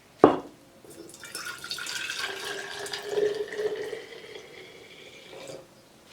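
Two cups of hot water are poured into a container for mixing tie-dye color, starting with a sharp clink and then a steady, gurgling stream that rises and fades over several seconds, close and fairly quiet.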